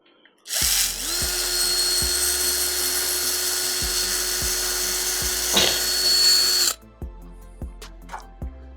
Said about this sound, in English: I pre-drill the hole to have the marking where it needs to go.